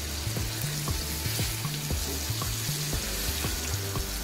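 Halwa (pomfret) fish frying crisp in a pan, Agri style, giving a continuous close sizzle and spatter with a steady rhythmic low bubbling pulse, alone without talk.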